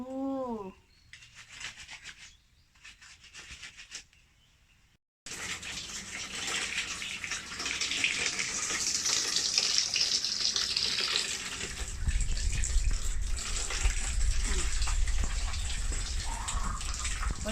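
Clothes are washed by hand in water, a steady close splashing and gushing that grows fuller and heavier later on, after a brief voice and quieter sounds at the start.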